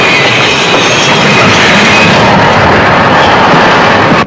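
A train runs steadily and loudly throughout, a continuous rumble with a faint rhythmic clatter of wheels on rails and no voices.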